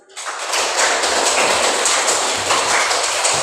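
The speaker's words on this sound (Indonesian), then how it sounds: "Tepuk tangan dulu." A classroom group claps hands together at a teacher's prompt, a dense, steady patter of many hands that starts abruptly and continues evenly, fairly loud, with no voices over it.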